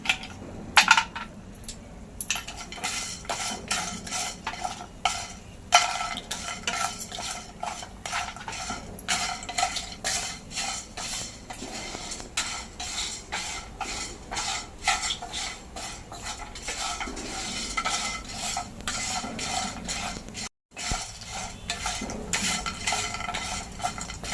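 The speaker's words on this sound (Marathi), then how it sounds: "ह्याला सगळ्यांना भाजायला सारखाच वेळ लागतो त्यामुळे आपण एकत्र भाजतो" Whole spices for a Maharashtrian goda masala, cinnamon among them, dry-roasting in a pan while a metal spoon stirs them, making steady scraping, clinking and rattling for the whole stretch, with one brief dropout near the end.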